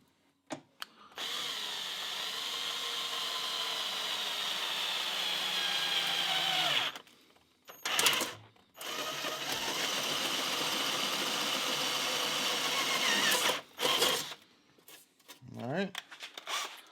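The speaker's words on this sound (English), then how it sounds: "let's get our drill out and we'll start drilling some holes" A power drill bores a small pilot hole into a metal stove pipe, a long steady whine with a rising pitch, broken by brief pauses and short restarts, close and loud.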